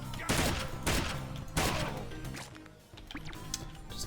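Gunfire in the PC video game Wasted, three heavy shots spaced about half a second apart followed by softer scattered pops, fairly faint overall.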